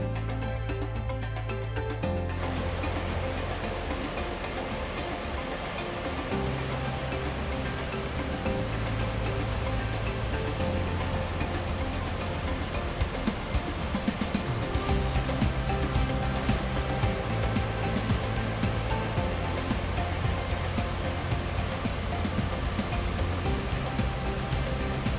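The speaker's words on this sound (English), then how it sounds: "the Murchison Falls, the strongest waterfalls in the world according to Uganda." Murchison Falls in Uganda: a steady, powerful roar of rushing water fills the whole stretch, broad and continuous like a large waterfall, with a low rumble underneath and no voices.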